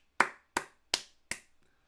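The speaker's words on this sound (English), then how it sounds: "Moments like that, you've just got to take your hand up and applaud it." Four slow, sharp hand claps, evenly spaced and fairly close, applauding a goalkeeper's save during a Liverpool versus Manchester City football match, with no talking.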